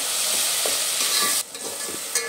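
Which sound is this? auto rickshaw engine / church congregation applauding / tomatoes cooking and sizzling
tomatoes cooking and sizzling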